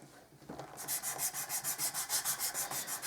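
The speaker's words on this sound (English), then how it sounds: "you just sand it a little bit, then turn it about 1/8 of the way around" Sandpaper rubs against a saxophone neck cork in a quick, steady back-and-forth rhythm, about a dozen close scratchy strokes after a short quiet start.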